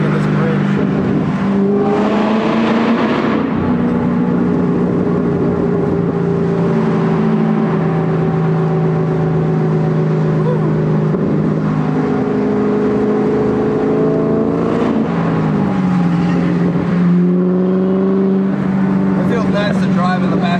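A stock 2003/2004 Ford Mustang Cobra accelerates through the gears, its supercharged-style engine drone climbing, dropping at shifts and climbing again, loud and close from inside the car for about twenty seconds.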